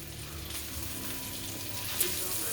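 Potato and asparagus sides cooking in a pan, making a steady, close crackling sizzle that continues throughout with one brief sharper pop.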